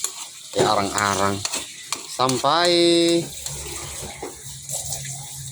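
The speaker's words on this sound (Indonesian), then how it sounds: "Kita goreng terus guys sampai arang-arang" Palm fruit pulp frying in oil in a pan while it is stirred and scraped, sizzling and bubbling under a person speaking.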